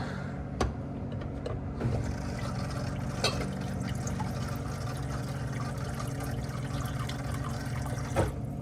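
Steady water flow runs continuously from a GE refrigerator water dispenser after a filter replacement, with a low hum beneath and a few brief clicks or drips breaking through, fairly close and moderate in level.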